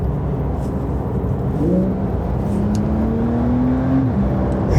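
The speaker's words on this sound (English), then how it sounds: "The revs as well, it just revs so high, and it sounds so good." Car engine pulls hard through the gears, revving high with rising and falling whine over a steady road roar, close and loud, no talking.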